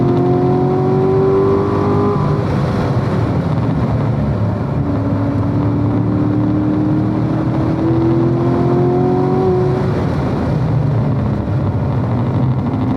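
A race car engine roars continuously at full throttle and high revs during an SCCA session at AutoBahn South, its pitch sliding up through gear changes, with no talking.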